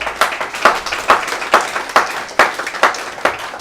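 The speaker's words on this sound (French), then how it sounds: "Applaudissez le Seigneur." A church congregation claps in quick, fairly regular rhythm, about two claps a second, close and moderately loud, with a light undertone of voices.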